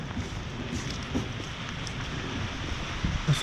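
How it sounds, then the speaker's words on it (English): Pouring rain falls steadily outdoors as a dense, even wash of noise, fairly close and continuous, with a few louder drops or splashes near the end and no talking. "It's now pouring rain."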